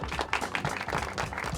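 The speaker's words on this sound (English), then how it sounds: "Nice round of applause." An audience applauding to welcome a speaker onto a talk stage, a loud burst of many overlapping hand claps filling the room steadily throughout.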